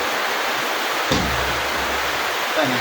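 Dense, steady hiss of heavy rain pours down without a break in Taysan, Batangas, with a faint thump partway through.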